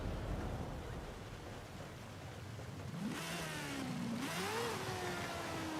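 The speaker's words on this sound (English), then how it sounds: "I got the racing rotary engine, so it's really high-pitched" A Mazda RX-7 fitted with a racing rotary engine revs in Forza Horizon 5, giving a high-pitched whine that climbs and shifts through gears over steady background engine drone, fairly quiet overall.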